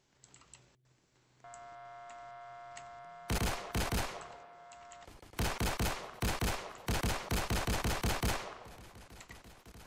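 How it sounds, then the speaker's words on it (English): Rapid bursts of video game gunfire during a riot at a sheriff's office in Mano County, loud and repeated, with sharp volleys of shots following a steady electronic hum. "From a barrage of gunfire."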